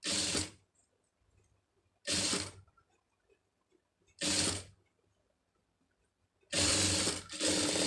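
A sewing machine stitches a puff sleeve in four separate bursts of rapid mechanical whirring, close and fairly loud, with quiet pauses between runs and the last burst stopping briefly before restarting.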